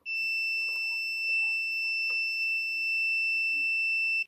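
A multimeter in continuity mode gives a continuous high-pitched beep while testing a Mercedes KE-Jetronic throttle position switch, holding steadily, loud and unbroken, with faint clicks and handling noise beneath.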